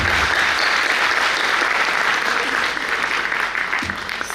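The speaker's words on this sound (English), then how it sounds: "Everybody, please give a big round of applause." Loud, dense applause from an audience at a college staff felicitation event honoring teachers, steady and sustained before tapering slightly at the end.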